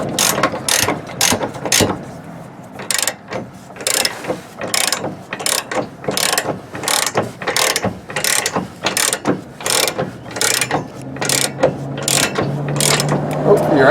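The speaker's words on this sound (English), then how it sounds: "So I'm going to use the adjustable end wrench on the nut side." An adjustable end wrench ratchets a nut on a Curt XD trailer hitch being installed on a 2008 Toyota Tundra, giving loud repeated clicking strokes in a steady rhythm, close up and without speech.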